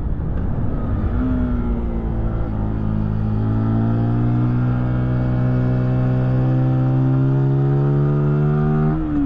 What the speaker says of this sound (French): Voilà, petite voiture de rallye,